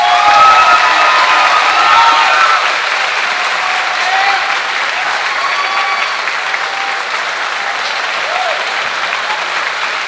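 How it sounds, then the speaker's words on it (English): An audience at a senior honors night gives a sustained round of applause, loud and steady, with scattered cheers and whoops in the crowd. "Everyone, please join me in giving all of our seniors another round of applause."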